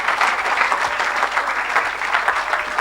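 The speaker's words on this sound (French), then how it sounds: "Applaudissements." A congregation applauds during a French-language evangelical sermon, steady dense clapping at close range and fairly loud throughout the short stretch.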